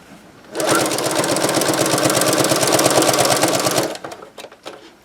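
A sewing machine stitches a tote bag seam in one loud, steady, rapid run of about three seconds that starts abruptly and stops, followed by a few faint clicks.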